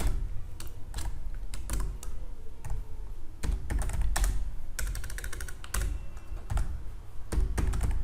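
Close, brisk keystrokes on a computer keyboard while C code is typed, irregular clicks and thunks clustered in quick runs with short pauses, no talking heard.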